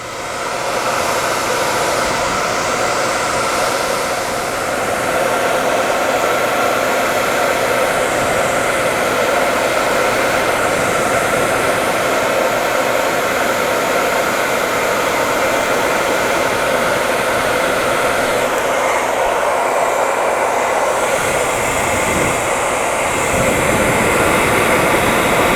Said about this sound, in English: start by using the small end of the comb and a hair dryer and applying some heat